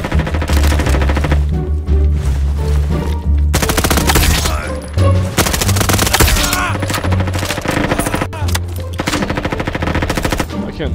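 Rapid MP5 submachine gun fire in the Roblox shooter Frontlines, loud, dense bursts almost nonstop, layered with other weapon shots and game sounds.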